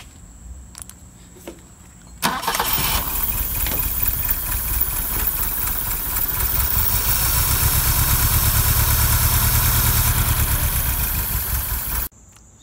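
A car engine started by a hack wiring job using only four wires, with cables run from the battery to the starter and the block, catches at once and settles into a loud, steady idle that runs alone for about ten seconds before being shut off.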